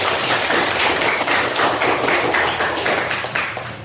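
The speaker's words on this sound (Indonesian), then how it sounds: "tepuk tangan dulu untuk kelompok 1" Classroom applause for a student group after a presentation, sustained clapping from a group of people at moderate loudness that tapers slightly toward the end.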